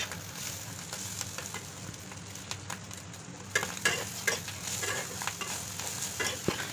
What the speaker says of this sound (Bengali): এর মধ্যে একটু তেল দিয়ে ফ্রাই করে নিতে হবে মাংসটিকে